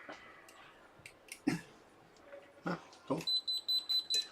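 A soldering station alarm sounds after a tip change, a rapid run of even, evenly spaced electronic beeps near the end, following scattered clicks and handling knocks in a workshop.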